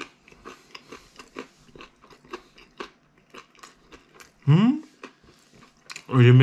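Someone eats döner-style pizza, with close, soft bites and chewing sounds repeating in an irregular rhythm, followed by a couple of louder voiced bursts near the end.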